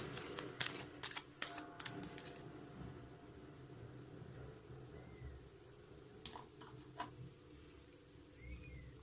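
Tarot cards being shuffled by hand, a few quick riffling bursts close up early on and again later, quiet and soft against a faint room background.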